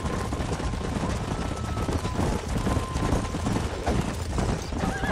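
Horse hooves clopping in the Red Dead Redemption video game, steady trotting under a busy mix of game sounds and occasional gunfire, with a faint neigh near the end.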